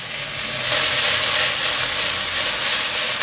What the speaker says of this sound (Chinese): 热锅冷油放进来，金针菇放进来炒香